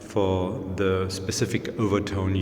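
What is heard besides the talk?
None of the usual background noises is heard.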